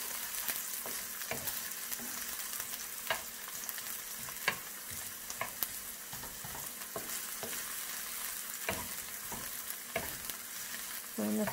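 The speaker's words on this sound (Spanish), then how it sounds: "vamos a freír la cebolla" Onion fries quietly in a pan, a soft continuous sizzle marked by occasional scrapes and taps of a stirring utensil.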